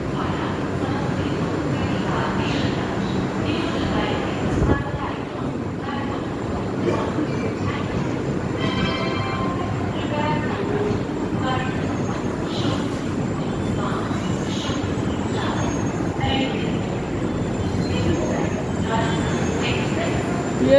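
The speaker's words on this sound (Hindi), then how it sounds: "ये थी हम लोगों की ट्रेन।" A train at Muzaffarpur railway station in India gives a steady rumble of rolling wheels and carriages, with faint squealing and clanks throughout, under crowd noise and voices.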